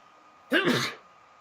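A single short, sharp sneeze bursts out close by against a quiet background.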